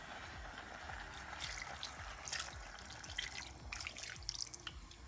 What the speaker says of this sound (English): now you want to add about a half a cup of water